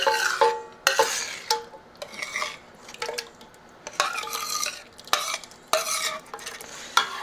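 Tomato cream basil soup is stirred in a pot with a spoon, giving repeated loud scraping strokes in uneven bursts against the pot, close by, over a soft background simmer, without talking.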